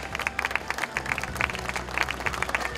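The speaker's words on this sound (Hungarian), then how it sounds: "egy nagy tapsot érdemelnek a testvérek" A crowd applauds sisters presenting traditional folk costumes at a heritage dress show, dense steady clapping from many hands with some louder individual claps, fairly near and with no talk over it.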